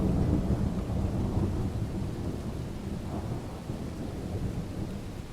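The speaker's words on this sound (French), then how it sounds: "la pluie battante nous contraint d'arrêter le travail" Heavy pouring rain at the end of a workday at the Canjuers fossil-footprint dig site, a dense, steady roar of downpour with low rumbling throughout, loud and continuous with no voices.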